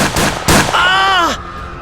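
Two sharp, loud gunshots inside a hospital in quick succession, followed by a brief high wavering cry that slides downward and fades.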